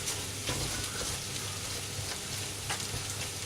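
Ingredients for breakfast fried rice sizzle hard in a hot frying pan while being kept moving, a dense, loud, continuous crackle with occasional scraping stirs, close up and without speech.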